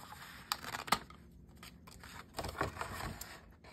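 Scissors cutting material into halves and wedges for an inked and tiled craft project, a few close, quiet snips and crisp cuts in short clusters, with no talking.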